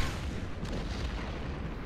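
A 7.2-inch howitzer fires in the strategy game Order of Battle, a single heavy, deep boom with a rumbling, spread-out tail that fills the whole moment, loud and without voices.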